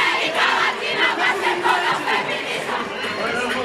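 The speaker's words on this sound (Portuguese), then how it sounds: "Na Avenida Paulista, uma multidão ao redor de carros de som." A large crowd at a street demonstration on Avenida Paulista, gathered around sound trucks, producing a continuous loud roar of voices and shouting that stays dense throughout.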